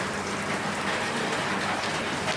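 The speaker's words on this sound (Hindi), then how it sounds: "तो बारिश हो रही है तेज़" Heavy rain pours steadily in Myanmar, a dense, loud, continuous hiss of drops hitting surfaces nearby, with no pauses.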